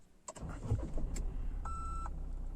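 A Mahindra Thar Roxx fires up with a quick crank that settles into a steady, low idle, close and moderately loud, with a short electronic beep chiming over the running engine.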